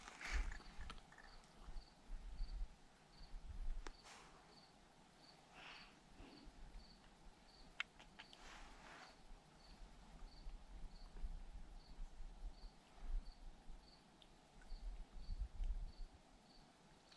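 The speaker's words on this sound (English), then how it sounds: "I love the sound of crickets." Crickets chirping faintly at night in the Canadian backcountry wilderness, a regular pulsing trill over quiet wind, with occasional brief knocks and rustles.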